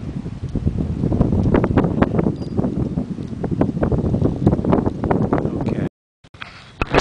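Gusty wind buffets the microphone in a continuous rough rumble, with faint voices underneath and a brief dropout near the end, outdoors at the Woodstock site.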